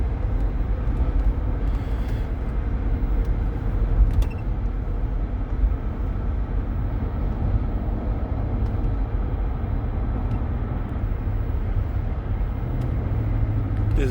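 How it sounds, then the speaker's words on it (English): A 2008 Range Rover with a lean running condition cruising on the highway at about 55 mph and 1500 RPM, giving a steady low engine drone and road rumble throughout with no talking. "This is just me driving at normal highway, about 1500 RPMs at 55 miles per hour."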